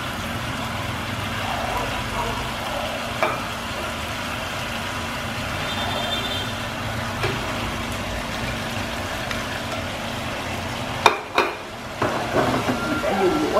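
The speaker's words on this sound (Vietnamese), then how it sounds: "khi mà đã sôi đều lên rồi, bắt đầu là mình cho cái cá mà mình đã chiên khi nãy vô" Soft continuous sizzling and bubbling of fried mackerel simmering in tamarind sauce in a pan, with occasional clinks of utensils and light scraping near the end.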